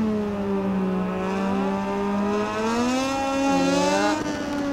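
A racing motorcycle engine in the MotoGP 19 video game on PS4 revs steadily upward, its whining pitch climbing and then dropping briefly before climbing again, with no talking.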